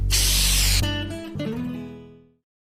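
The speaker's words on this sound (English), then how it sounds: "Carry bear spray in bear country." A bear spray canister discharges in a loud, close, forceful hiss for just under a second. It then cuts off into a fading ringing tail.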